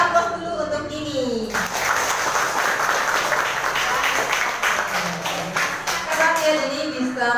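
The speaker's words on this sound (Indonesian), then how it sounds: "beri aplaus dulu untuk Dini" Applause for a student named Dini during an online chemistry lesson, a steady burst of many hands clapping that starts suddenly after a voice and continues for several seconds, fading as talking resumes.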